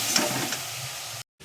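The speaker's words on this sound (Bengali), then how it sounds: "এবার দিয়ে দেবো অল্প একটু জল। আমি অল্প অল্প জল দিয়ে কষিয়ে নেব।" A splash of water hitting a sizzling ginger, garlic and tomato masala in a pan gives a brief, bright hiss that fades over about a second before cutting off abruptly.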